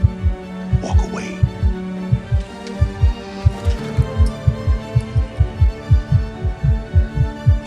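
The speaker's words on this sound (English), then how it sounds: "Why is your heart beating so fast?" Rapid heartbeat effect, a steady train of loud, low thumps in quick rhythm running the whole way through beneath dramatic score, with faint murmurs of voices.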